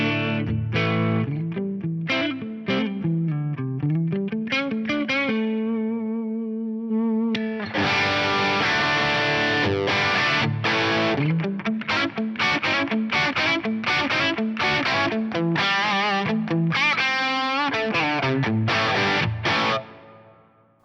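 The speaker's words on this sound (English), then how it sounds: "Let's hear it again with the Les Paul" Les Paul electric guitar played through an Axe-Fx III on a Marshall amp preset, distorted chords and melodic single-note lines ringing with sustain, loud and continuous for about twenty seconds, with no talking.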